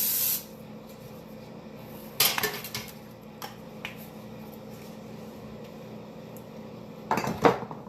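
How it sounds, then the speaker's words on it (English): A short hiss of cooking oil spray, then quiet, followed by two more bursts of spraying onto baking pans with light metallic clatter, close by. "So I'm going to oil down these pans."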